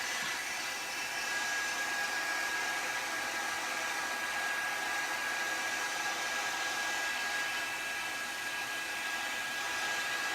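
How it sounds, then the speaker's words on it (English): Heat gun blowing hot air in a steady, loud, unbroken whoosh with a thin high whine throughout, close by and with no voices. "Once your heat gun gets really hot, it goes really fast."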